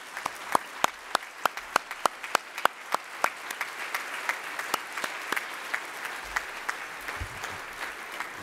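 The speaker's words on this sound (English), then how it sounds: "please stand up and at least give them a round of applause" Audience applause at the 2012 INFORMS Edelman Awards gala, starting as a few distinct, spaced claps and thickening into a steady, moderately loud round of clapping from a large crowd.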